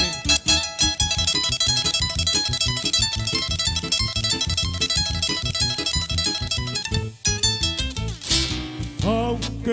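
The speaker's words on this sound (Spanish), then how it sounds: "Ese rico requinto que suena así" A requinto guitar picks a bright, rhythmic melody in a Colombian string ensemble, with strummed accompaniment and bass underneath, loud and continuous before a brief pause and a final flourish.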